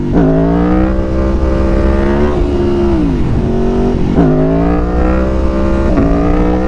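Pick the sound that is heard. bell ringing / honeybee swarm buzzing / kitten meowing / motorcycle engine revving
motorcycle engine revving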